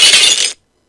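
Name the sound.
glass breaking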